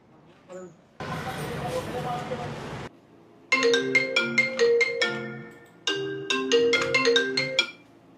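A mobile phone ringtone plays a repeated melodic tune in two loud bursts after a stretch of noisy hiss, as someone is called about a debt in a comedy sketch.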